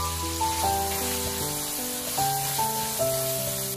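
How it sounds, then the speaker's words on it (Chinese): Minced pork stir-frying in hot oil in a wok with ginger, garlic, dried chilies and Sichuan peppercorns, a steady close sizzle running under tuneful background music throughout. "肉末炒熟后，把姜蒜、干辣椒、花椒放进来翻炒"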